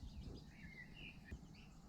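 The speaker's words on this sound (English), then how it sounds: "Listen to the birds song." Birds sing outdoors at a camp, faint warbling and chirping calls drifting over a low rumble of background noise.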